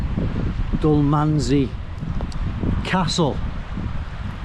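Strong wind buffets the microphone on an open hillside along the Cateran Trail near the Spittal of Glenshee, roaring continuously beneath someone talking.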